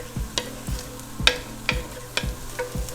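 Three cloves of minced garlic sizzle in a frying pan alongside cooking peppers, with a soft steady hiss broken by regular utensil scrapes and taps as it is stirred, close and fairly quiet.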